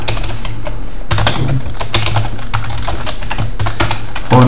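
Rapid computer keyboard typing while entering program code, dense clustered keystrokes close and loud, with a brief spoken word at the end.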